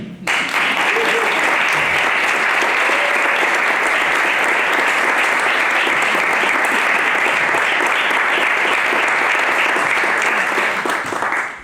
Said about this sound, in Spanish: Y les pido un aplauso para ellos.